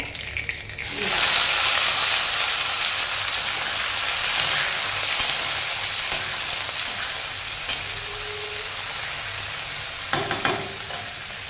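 Cauliflower frying in hot oil with curry leaves and nigella seeds gives a dense, steady sizzle. It swells in after a quiet first second and carries on with occasional soft clinks of stirring, and no one speaks.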